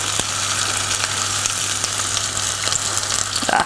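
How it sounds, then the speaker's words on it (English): Beef mix for sweet chilli beef sizzles steadily as it is stir fried in a hot pan, a constant close frying hiss with occasional scrapes and stirs and no talking. "I'm just going to stir fry that off."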